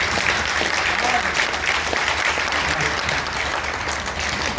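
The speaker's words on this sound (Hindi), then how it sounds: "थोड़ा और ज़्यादा मन से तालियां चाहता हूँ" Audience at a Hindi poetry recital breaks into sustained, dense applause that stays steady and loud throughout, with faint voices mixed in.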